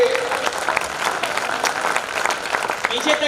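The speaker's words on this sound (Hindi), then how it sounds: "पीछे तक तालियां बजाओ भैया" Dense, sustained audience applause fills a crowded kavi sammelan poetry gathering in Vidisha, steady and loud throughout, with voices faintly mixed beneath the clapping.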